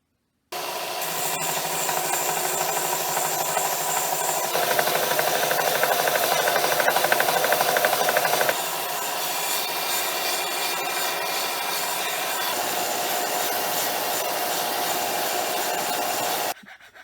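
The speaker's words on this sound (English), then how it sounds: "I'm going to use the belt sander to accomplish that." Belt sander smoothing wooden nunchuck pieces: a continuous, loud, close rasping whir that shifts in pitch as the wood is pressed, running nonstop for the whole stretch with no talk.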